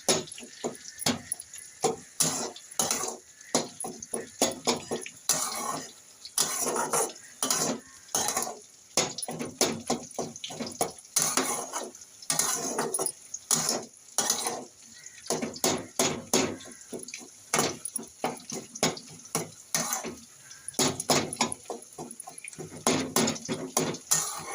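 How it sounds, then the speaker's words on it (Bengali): Red amaranth greens stirred in a pan while frying, repeated scraping and clinking strokes of a spatula in an uneven rhythm over a soft sizzle, close and alone without voices. "ঢাকনাটা খুলে একবার দেখে নেব লাল শাকটা কতদূর হয়ে এসেছে। একবার নেড়ে দেবো।"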